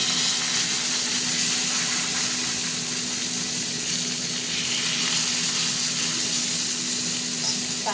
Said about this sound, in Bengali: এই যে বেগুন দিয়েছিলাম, বেগুন ভাজা হয়ে গেছে, বেগুনটা তুলে নিচ্ছি।